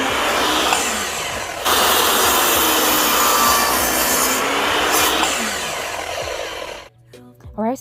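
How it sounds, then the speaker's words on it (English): A piece of wood is sanded by hand for farmhouse fall decor, giving loud, close, continuous scratchy rubbing in long strokes with a brief pause. It ends in quiet with a short soft sound. "I am just going to sand this piece of wood"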